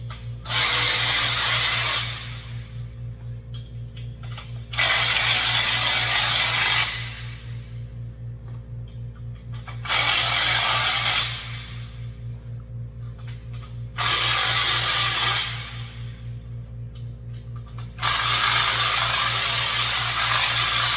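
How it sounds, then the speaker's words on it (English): A small impact wrench tightens 19 and 13 millimetre bolts on a Springfree O92 8x13 trampoline in five short, loud bursts of rattling whir, spaced a few seconds apart, over a steady low hum. "Little baby impact hammer. The key is do not over tighten. Short little burst."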